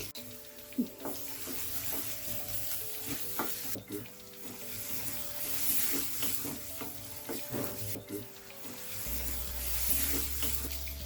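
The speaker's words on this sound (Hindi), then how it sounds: "इसमें हम डालेंगे कटा हुआ टमाटर, उसको फिर से मिलाएंगे।" Chopped tomato is stirred into bread masala upma in a hot pan: a steady close sizzle with repeated scraping spoon strokes and soft clacks throughout, growing a bit louder near the end.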